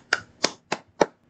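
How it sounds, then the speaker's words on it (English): Four sharp, separate hand claps at a steady, fairly quick rhythm, close and loud, with silence between them and no talk. "Applause for the hatchet."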